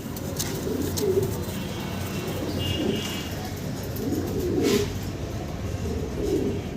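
Fancy Danish pigeons coo in soft, repeated low calls close by, several birds overlapping against a steady background hum.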